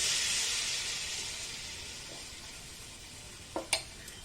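Appam batter sizzles in a hot kadai with a steady, close frying hiss that slowly fades, and a couple of brief clinks of a utensil near the end.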